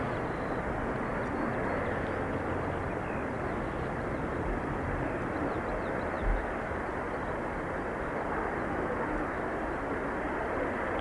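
Jet airliner roar from a Ryanair departure at Dublin Airport, a steady, broad rumble holding at even loudness throughout with no break, heard from a spotting position.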